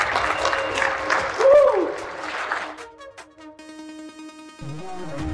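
A live-talk audience claps for a speaker, a burst of crowd applause that fades after a couple of seconds into sparse sustained tones and a low hum, with no speech heard.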